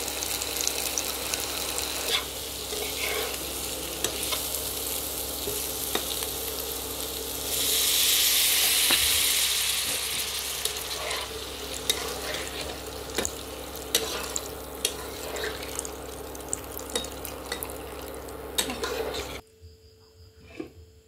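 Potato and pumpkin pieces fry in a pan with a steady close sizzle and occasional stirring scrapes. A brief louder hiss swells midway, and everything cuts to near silence at the end.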